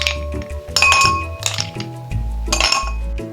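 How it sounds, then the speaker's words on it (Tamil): Ice cubes drop into a glass cup while a blueberry lemonade is being made. Several bright, hard clinks and rattles come in two or three close bursts, loud and near, with no talking. "ஐஸ் கியூப்ஸ் போட்டுக்கோங்க."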